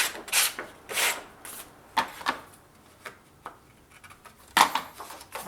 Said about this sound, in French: On va sabler un petit peu le côté.